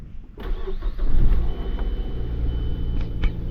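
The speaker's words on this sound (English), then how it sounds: "Let's get a start up, cold start here." A 2008 Mazda 3 engine cranks and catches from a cold start, revs up briefly, then settles into a steady, rumbling idle close to the microphone.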